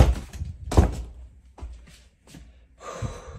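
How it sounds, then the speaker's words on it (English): A kitchen door swings shut with a couple of dull thunks and knocks, fairly close and moderately loud, followed by a brief rustling hiss near the end; no one speaks. "I'm going to close this door"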